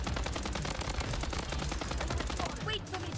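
An MP5 submachine gun fires in the video game Bloodstrike as a loud, continuous rapid burst of close shots that runs almost the whole time, with a brief break just before the end.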